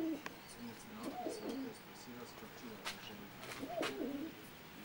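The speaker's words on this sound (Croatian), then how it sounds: "On ima dobre golube." Pigeons coo softly in repeated low, throaty bursts, several calls close by, with faint clicks and rustles around them.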